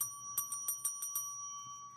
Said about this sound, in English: You guys can hear that, right? The bells.